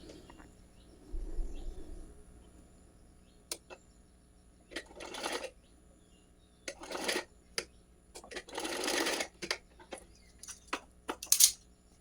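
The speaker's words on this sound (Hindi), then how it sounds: "बस थोड़ा सा यहाँ पे 1 सवा 1 इंच की सिलाई आपने लगानी है" A sewing machine runs in several short bursts of stitching as it sews a brief seam about an inch long, joining two parts of a small Kanha dhoti; quiet pauses separate the runs, with no talk.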